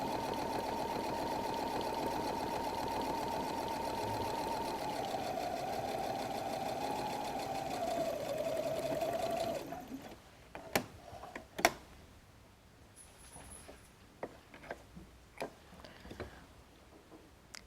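A sewing machine runs steadily for about ten seconds as it stitches down the full length of a fold on a messenger bag, its hum shifting slightly in pitch. Then it stops, leaving scattered clicks and taps of handling.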